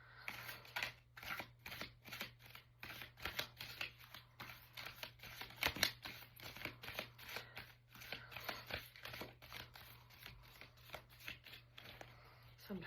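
Tarot cards shuffled by hand in repeated quick riffling bursts that keep an even rhythm, close and fairly quiet over a low steady hum.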